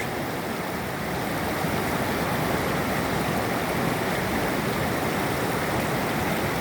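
Ingalls Creek rushes over boulders and gravel in a steady, dense roar heard up close, unbroken throughout with no voices.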